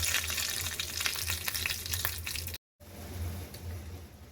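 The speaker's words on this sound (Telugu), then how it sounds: "తాలింపు వేస్తే ఇంక రసం అయిపోతుంది." Tempering spices crackling in hot oil for rasam: a steady frying sizzle with faint scattered pops, cut briefly by a gap of silence, then continuing somewhat quieter.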